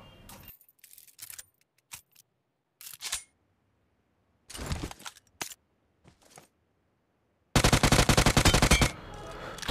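Gunfire in BGMI (Battlegrounds Mobile India) played on an Infinix Zero 5G phone: scattered short clicks and shots across quiet gaps, then a loud rapid automatic burst lasting over a second.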